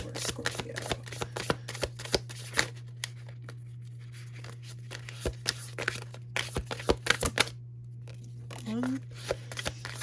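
Tarot cards are shuffled close by in repeated crisp riffles and soft slaps, with a quick flurry near the end, against a steady low hum. A voice is briefly heard near the end.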